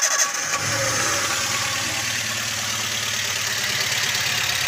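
A Toyota Avanza engine runs with one ignition coil unplugged, giving a steady, fairly loud idle drone close by that holds level throughout.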